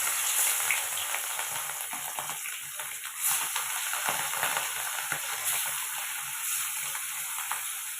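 Fish rubbed with salt and turmeric crackles and hisses steadily in hot oil in a wok, a dense, close sizzle that runs the whole time with a few faint scraping clicks.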